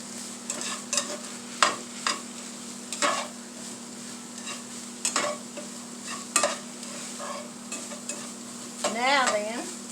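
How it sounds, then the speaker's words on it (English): Beef and vegetable macaroni being stirred in a skillet, with a low constant sizzle broken by repeated scraping and clacking strokes of the spoon against the pan, close and clear, ending in a brief squeak. "We'll stir that up."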